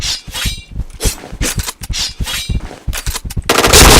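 Rapid gunfire from a competitive shooter game with an AWP sniper rifle in play, loud bursts of repeated shots in quick succession ending in a dense, sustained blast of noise, close and harsh, no talking.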